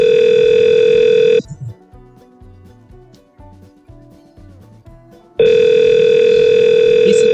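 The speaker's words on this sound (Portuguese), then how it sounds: "Esse toque é falso, ele é um ring falso." Fake ringback tone from a phone call placed through an Issabel PBX: a loud, steady tone runs alone for about a second and a half, breaks off into quieter line noise, then the same loud tone comes back near the end.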